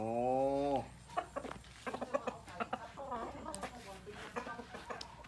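A chicken clucks in a series of short, uneven calls close by, following a brief drawn-out tonal cry at the start.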